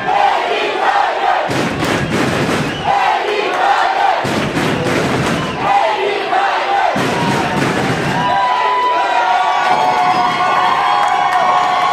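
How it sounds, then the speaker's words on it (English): Tiger fans in a rowdy crowd at a high school softball game in Sinton, Texas, cheer and shout in loud repeated surges separated by brief lulls, with a sustained roar and a few whistling tones near the end. "All right, so rowdy crowd here at Sinton, Texas."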